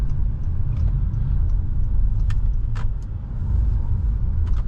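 A 2019 Honda Passport Touring on the move, a steady loud low engine and road rumble with a few light rattles and clicks inside the cabin, no talking.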